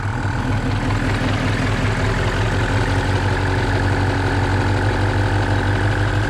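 A vehicle engine idles steadily with the hood open, a loose, smoking exhaust manifold adding a rough, pulsing low rumble, close and continuous with no talk.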